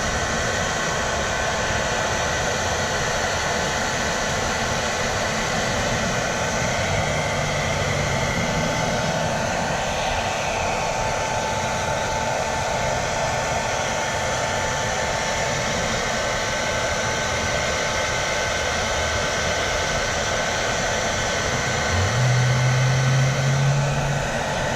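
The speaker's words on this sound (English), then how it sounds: "Hair dryer. All right, add some more heat." A hair dryer blows hot air onto film being applied to a BMW F10 535i headlight, a loud, continuous whooshing hum that holds steady for the whole stretch with a slight rise near the end.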